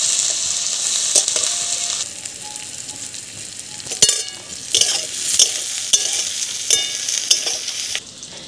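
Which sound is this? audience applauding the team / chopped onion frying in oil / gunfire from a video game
chopped onion frying in oil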